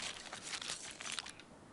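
Knife cutting meat in the survival video game Stranded Deep, a faint crinkly, wet slicing and tearing texture in quick irregular bursts, quiet and close with no talk.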